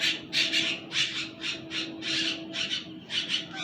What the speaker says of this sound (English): the birds are pretty loud right now. They're fighting over one bird's got food.